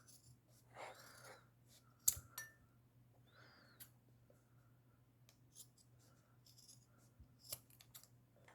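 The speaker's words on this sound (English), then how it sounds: "start cutting off. Again, be very careful you don't cut your moccasin. And we're just removing the seam." Scissors snipping through the seam of a handmade moccasin while attaching the cuffs, a few sparse, quiet cuts and clicks over a steady low hum, with long gaps of near silence between them.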